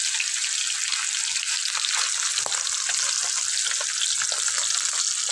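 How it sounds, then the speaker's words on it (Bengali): Rohu fish pieces frying in hot oil in a wok give a steady, close, crackling sizzle throughout, with faint scattered pops. "আমি এভাবে সবগুলি মাছ ভেজে নেব।"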